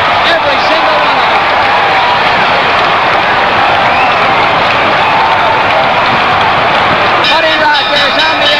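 A wrestling crowd roars and cheers during a six-man match, a loud, dense, continuous wall of cheering, clapping and babble with an announcer talking over it.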